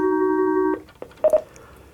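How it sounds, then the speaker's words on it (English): Steady electronic ringing tone on the call-in line of a hunting radio show, lasting under a second, followed by a couple of short beeps before quiet line noise. "Oh, we got a phone call coming in."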